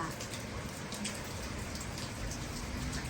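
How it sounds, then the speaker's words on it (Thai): Heavy morning rain falling steadily in Auckland, a dense, continuous patter of drops striking surfaces close by, loud and unbroken, with no voices. "วันนี้ฝนตกค่ะ"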